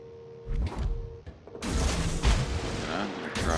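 Naval guns of a Gearing destroyer firing in World of Warships: a couple of sharp reports early, then a louder run of heavy booms and rumbling blasts over a busy battle din.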